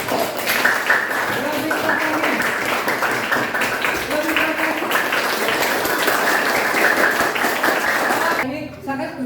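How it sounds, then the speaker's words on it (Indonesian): Students in a classroom clap together at the end of a lesson, a dense, fairly loud patter of hands with voices mixed in, stopping abruptly just before the close. "Beri tepuk tangan untuk kita semuanya."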